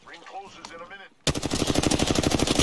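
Rapid automatic gunfire in Apex Legends erupts after a brief stretch of voices and keeps going as a dense, loud stream of shots.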